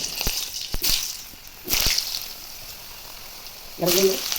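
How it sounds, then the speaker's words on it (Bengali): Potatoes and carrots fry in hot oil in a heated kadai (wok), giving loud, sharp bursts of sizzling that come in waves between quieter stretches, with a brief voice near the end. "এবার আলু আর গাজরগুলো ভেজে নেব"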